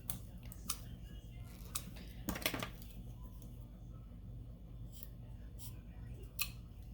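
Scissors snip through a sublimation writing pen in several sharp clicks, a few isolated cuts and a louder crunching pass midway, recorded close over a steady low background hum.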